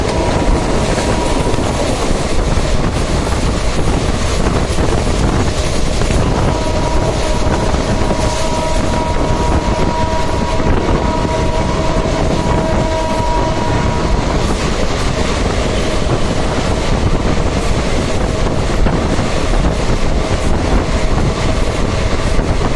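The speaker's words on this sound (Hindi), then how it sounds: "एक हाई स्पीड स्किप देखिए गजरोला जंक्शन का विद ट्रैक साउंड" The Shramjeevi Express runs at high speed through Gajraula Junction in India, giving a loud, continuous roar of wheels on rails with steady clickety-clack and rattling carriages throughout, and no voices.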